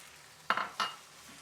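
Sauerkraut drops into a pot of nearly cooked potatoes and tender vegetables, giving two quick, close wet clatters against the pot, each fading fast into quiet.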